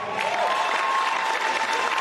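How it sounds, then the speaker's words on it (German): Dense, even applause from a crowd at a padel tournament, steady clapping filling the whole moment without a break and without talk. "Einmal Applaus für die 3."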